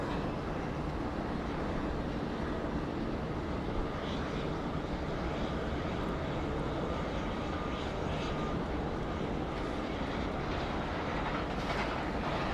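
Aircraft passing at Sydney Airport, a broad steady engine roar that holds evenly throughout as a plane moves past in the distance, with no voices over it.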